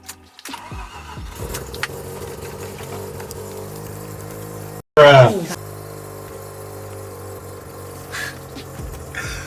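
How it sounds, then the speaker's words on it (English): A car engine cranks and catches near the midpoint with a loud burst, then settles into a steady idle; before the start there is a low, continuous hum with faint handling noises. "The car's running."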